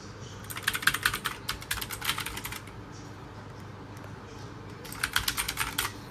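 Two bursts of rapid, crisp key clatter from an ROG RGB Aurora computer keyboard, loud and close, separated by a quieter pause over a low steady background hum.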